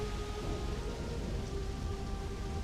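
Steady rainfall patters across a large forest in the video game Starfield, a dense, even hiss of drops with a faint low rumble underneath and no voices.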